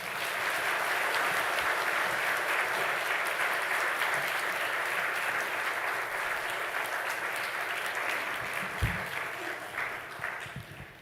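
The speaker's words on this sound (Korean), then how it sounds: "나오실 때 우리 큰 박수로 환영하도록 하겠습니다." A church congregation at a Sunday service claps warmly and continuously to welcome a visiting preacher, a sustained, even wash of applause that fades slightly toward the end.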